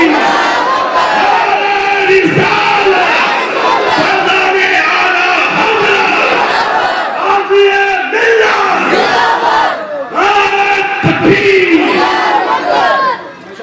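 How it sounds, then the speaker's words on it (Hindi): A large crowd at a religious gathering chants the Naara-e-Takbir slogan together, loud and sustained over roughly fourteen seconds, with repeated surges of unison shouting and dense overlapping voices. "सब हाथ उठाकर बोलेंगे नारे तकबीर"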